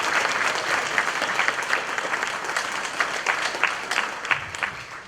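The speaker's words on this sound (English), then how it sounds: "Big round of applause for our sponsors." Audience applause for sponsors at a museum lunchtime art talk, a moderate steady round of clapping from a small crowd lasting the whole stretch, with no talking over it.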